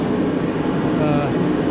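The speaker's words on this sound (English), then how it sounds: "sorry for the noise from the heater." A steady, loud roaring hiss of a propane heater running close by, with a constant low rumble throughout.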